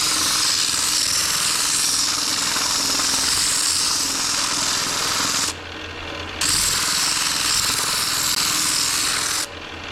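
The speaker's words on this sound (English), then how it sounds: "And then here on this lathe, same thing." A lathe rounds a wooden boomerang in a loud, continuous harsh grinding roar that cuts out briefly twice before resuming.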